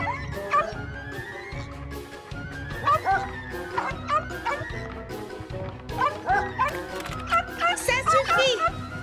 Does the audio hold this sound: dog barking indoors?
yes